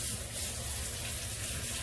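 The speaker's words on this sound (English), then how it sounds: "now let me go wash my hands" Tap water runs in a steady, close gush while hands are washed at a kitchen sink during low-carb eggplant rollatini preparation, with no speech.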